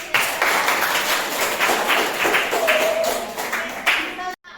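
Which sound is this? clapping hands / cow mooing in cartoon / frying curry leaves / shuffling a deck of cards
clapping hands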